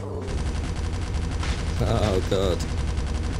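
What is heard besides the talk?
P90 gunfire in the video game Call of Mini Zombies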